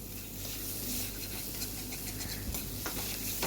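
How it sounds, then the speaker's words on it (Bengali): Poppy seed paste and spices being sautéed in a pan for a vegetarian paneer dish give a steady close sizzle with stirring scrapes, and a low hum runs beneath throughout. "ভালো করে কষিয়ে নিতে হবে"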